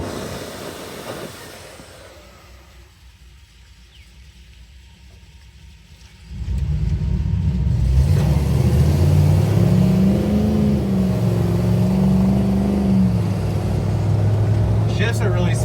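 K5 Blazer engine pulling through its gears while driving, quiet at first, then a louder surge at about six seconds with rising and falling revs as it shifts smoothly under road noise.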